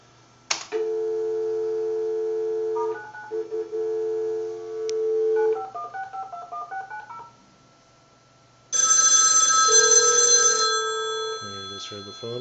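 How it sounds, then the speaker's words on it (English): During a Commodore 64 dial-up call to a BBS, tones and a repeating electronic telephone ring sound from the line, with a louder, harsher burst of tones near the end. "You just heard the phone ring."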